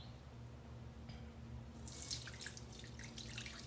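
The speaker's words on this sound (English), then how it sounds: "So now I'm gonna rinse it off." Tap water running steadily while sugar scrub is rinsed off hands, a soft constant hiss with a low hum underneath and brighter splashing as the hands move under the stream.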